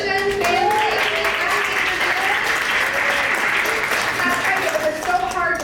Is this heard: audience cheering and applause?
yes